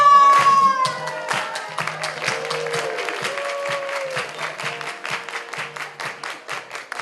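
Audience applause at a live theatre performance, beginning with a loud burst and settling into scattered rhythmic clapping that continues and gradually thins.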